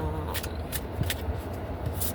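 Tarot cards being shuffled by hand, soft brief riffling bursts repeating several times over a low background hum, close and fairly quiet.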